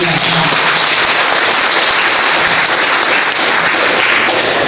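A crowd applauds at a closing ceremony, a dense, even wash of clapping that continues steadily throughout.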